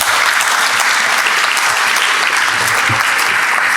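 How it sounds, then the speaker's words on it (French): A large audience at a conference welcome session applauds loudly and continuously, a thick sustained roar of clapping through the whole clip. "on peut les applaudir très fort"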